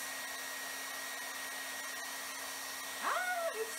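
A hair dryer blows on melting crayons with a steady, even whoosh, and a short rising-then-falling whistle-like tone cuts in near the end.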